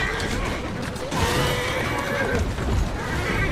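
A horse whinnies in the Assassin's Creed Syndicate video game, amid steady game ambience with hoof clatter, alone without talk over a few seconds.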